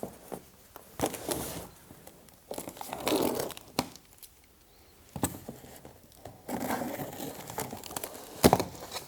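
Crinkling, tearing and snipping noises from scissors cutting open the packaging of a Rialto Reformer Pilates machine nearby, coming in irregular bursts with quiet gaps between them.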